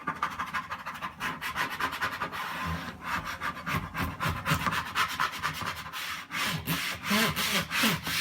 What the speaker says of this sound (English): Now we're going to burnish.